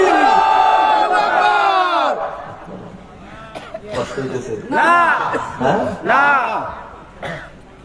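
A crowd at an Islamic jalsa responds to a takbir call with loud collective shouts. The shouts come in several rising and falling waves, close and strong, with overlapping voices and chant-like cries.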